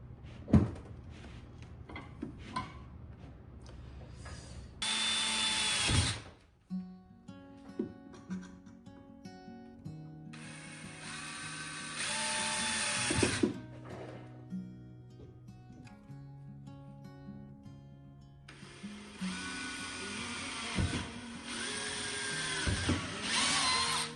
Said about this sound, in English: we need to drill a few holes for the alcohol to go through